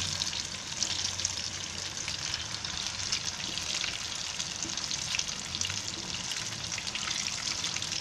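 Tuna fish pieces fry in hot oil for biryani, producing a loud, steady, spattering sizzle with scattered crackling pops close by and no voices.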